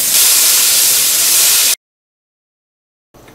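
Pureed beans hitting a very hot pan of canola oil set off a loud, close burst of hissing sizzle that cuts off abruptly, then near silence before the hiss faintly returns.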